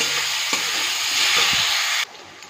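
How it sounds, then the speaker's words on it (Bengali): Spice paste with turmeric, cumin, coriander and chilli powder sizzling loudly in a pan for a cabbage and spinach dish, a bright steady hiss that drops away abruptly near the end. "দিয়ে ভালো করে কষিয়ে নেব।"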